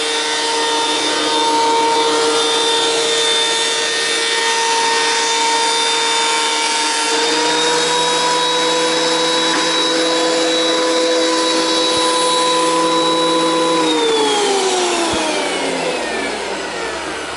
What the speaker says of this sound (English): I'm surfacing the wood to take the cupping out of it and any milling marks